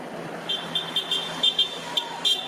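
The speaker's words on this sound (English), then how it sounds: "Supporters of the blogger honked and demonstrated outside the blogger." Supporters honk car horns outside a courthouse in Stoughton, a series of short, repeated horn toots in uneven rhythm, moderately loud over low background noise.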